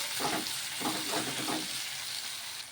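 Onions and curry leaves sauté over a high flame, a steady hiss of frying with a few bursts of stirring on top; no voices.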